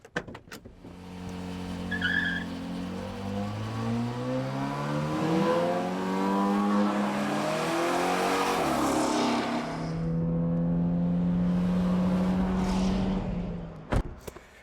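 A Honda drag car launches and races down a drag strip with a steady loud engine drone, pitch rising through gear changes and dropping briefly before climbing again, with no talking.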